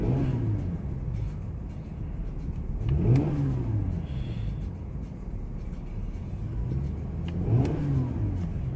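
A 2017 Mercedes-Benz GLE 43 AMG in Sport Plus mode revs twice from a low idle rumble. Each rev is a rising, then falling engine roar, heard nearby with no speech.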